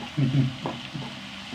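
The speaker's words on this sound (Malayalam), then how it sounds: "ഇത് വഴറ്റട്ടെ വഴറ്റട്ടെ" Ingredients are sautéed in a pan, with a couple of close scraping stirs over a light sizzle in a brief moment.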